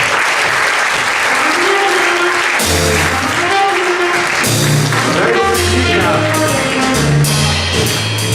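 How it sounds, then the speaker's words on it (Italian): Steady applause greets an award winner at a literary prize ceremony, a continuous crowd clapping while music with a voice plays loudly over it. "un applauso a Virginia"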